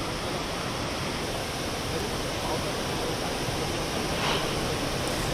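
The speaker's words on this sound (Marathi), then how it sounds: "धरणातनं सध्या 4800 क्युसेक वेगानं मुठा नदीपात्रामध्ये पाण्याचा विसर्ग सुरू झालाय" Water released from Khadakwasla dam rushes into the Mutha river at about 4800 cusecs during heavy monsoon rain, a loud, steady broadband roar that stays constant and unbroken throughout.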